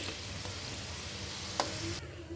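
Gulab jamun balls fry in hot oil, giving a soft, continuous sizzle with faint stirring clinks, fairly quiet and close.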